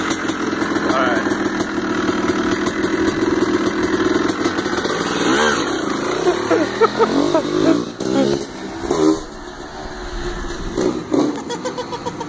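A motorcycle engine runs steadily, idling with a low drone and a few light revs, while people talk and laugh over it nearby.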